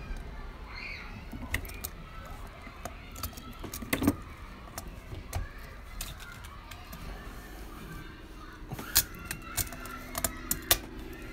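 Small metallic clicks and light rattles come from a Mazda 6 2.2 MZR-CD turbo core cartridge being oiled and pushed into its housing, quiet and scattered across a low background hum.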